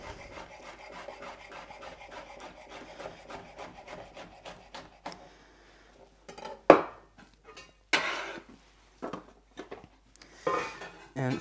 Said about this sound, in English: I'm just going to cut into little strips